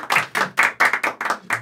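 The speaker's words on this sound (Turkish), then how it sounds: "Ona da bir alkış." Hand claps from a small group honouring a crew member, about seven distinct bursts in an uneven rhythm, close and fairly loud with no talk.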